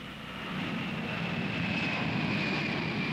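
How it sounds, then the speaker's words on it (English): Wide-bodied jumbo jet engines roar steadily in a constant broadband rush with a thin high whine, loud and continuous throughout with no talking. "It was this, the wide-bodied conventional jet,"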